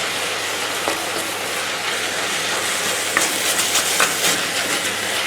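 A spaghetti sauce with dried oregano sizzles steadily in a pan, with scraping stirring strokes near the end and no voices.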